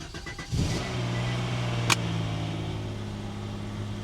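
A C5 Corvette V8 cranks and catches at once, then settles into a steady, slightly noisy idle with a brief ticking from the top end, recorded close up.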